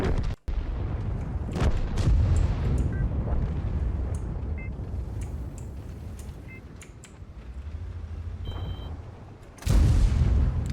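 Several sharp, booming gunshot-like blasts from a video game battle ring out at intervals over a dense rumbling background, with a loud burst near the end.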